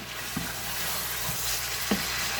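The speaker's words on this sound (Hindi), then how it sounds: "तो थोड़ा सा हमने फ्राई करना है इस तरह से" Chicken and raw potato pieces fry in a pan for a Sindhi biryani, giving a steady, close sizzle with a few soft stirring scrapes and no voices.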